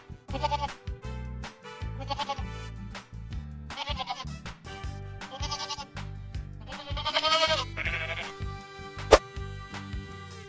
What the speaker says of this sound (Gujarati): ચાલો બાળકો હવે આપણે બકરીને જોઈએ અને તેનો અવાજ સાંભળીએ